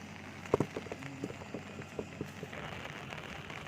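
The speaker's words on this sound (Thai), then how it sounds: "ตอนนี้ก็ฝนก็เริ่มลง มา อีกรอบ นึง แล้ว" Rain patters steadily on surfaces outdoors at a roadside recovery site, a soft continuous hiss with a few sharper nearby drops and knocks, moderately faint.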